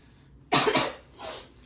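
One close, harsh cough in two quick bursts from a woman with a cold, followed by a softer breathy exhale, in a quiet doctor's consulting room.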